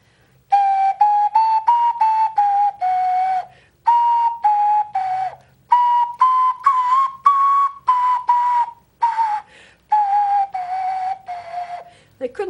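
A potato ocarina gives breathy, whistle-like phrases of short and sustained notes separated by brief pauses, fairly loud and alone, with no talking.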